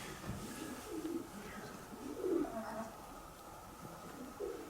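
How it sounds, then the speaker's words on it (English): Pigeons coo softly inside a church in a few low, muffled bursts, set against a hushed room with faint background murmur. "Can you scare the pigeons off?"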